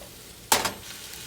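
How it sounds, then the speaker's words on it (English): Mushrooms being stirred into kimchi fried rice in a pan: a single quiet scrape and clatter of the utensil against the pan with a short sizzle, then near silence. "let's add mushroom as well. Just mix."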